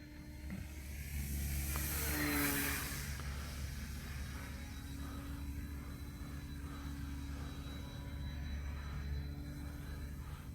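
A heavy RC warbird model plane holds full throttle in flight, its engine a steady droning whine that swells as it passes nearer around the two-second mark, then continues evenly at a distance.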